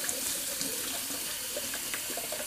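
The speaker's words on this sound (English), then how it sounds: "I'm just rinsing out this brush so you can check it out." A shaving brush from a Brazilian Sandalwood safety razor kit rinsed under a running tap, with steady splashing water spattering into a sink, close and continuous throughout.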